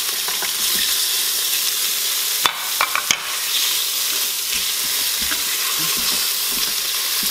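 Venison chunks browning in an Instant Pot for stew, a steady loud sizzle and frying hiss with occasional stirring clatters and scrapes around the middle, no voices.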